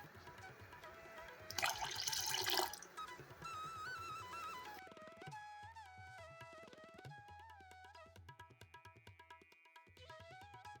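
Water poured into a pot of simmering bachelor-style sambar, a bright splashing rush lasting about a second before settling into a softer trickle and bubbling, with kitchen clinks and faint background music.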